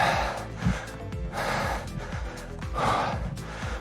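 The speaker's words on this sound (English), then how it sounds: "You can tell, I'm already breathing hard." Heavy, rhythmic breathing from someone doing lunges during a workout, with repeated puffing exhales and inhales close to the microphone over a steady background.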